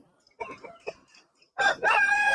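A rooster crows loudly and close by in two long strained bursts at an early-morning rooster market in Siruvalur, Erode district, after a few softer clucks and calls from nearby fowl.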